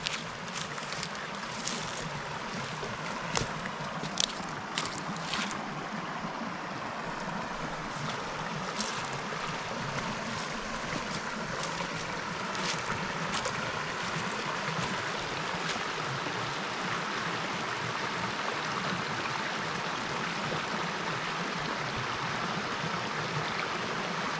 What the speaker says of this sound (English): Oh yeah, that water is flowing.